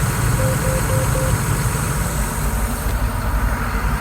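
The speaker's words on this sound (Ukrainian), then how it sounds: "Оберти двигуна не плавають. двигун працює нормально, не свистить." A John Deere R4030 self-propelled sprayer's engine runs at a steady idle, a loud, even mechanical drone with a low rumble that holds constant throughout, no voices.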